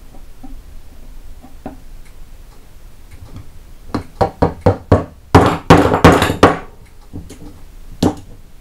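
Sharp knocks and chisel strikes ring out as rivets are cut on Model T Ford transmission bands. The strikes come in a quick run of about eight hits clustered near the end, close and loud, with quieter taps before them.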